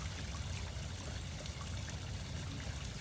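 A steady, even rush of water spraying from a garden fountain with an adjustable sprayer, a soft continuous hiss with no voices or breaks.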